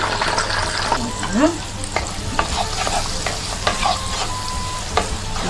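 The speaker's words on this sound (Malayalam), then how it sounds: "അടുത്ത സെക്ഷന് വറുത്തെടുക്കാം" Chicken pieces deep fry in oil for butter chicken, giving a loud, steady close sizzle with repeated scraping and stirring clicks and a few metal taps throughout.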